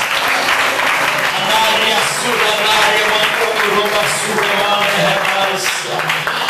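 Church congregation clapping together during a sermon, a dense continuous patter of many hands that stays loud throughout, with voices and other sounds mixed underneath.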